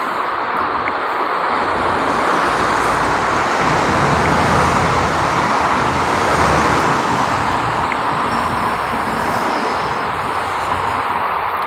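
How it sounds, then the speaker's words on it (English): Loud, steady road traffic rumbles without a break, a dense wash of passing vehicles close by with no pauses or distinct gaps. "The traffic's probably loud"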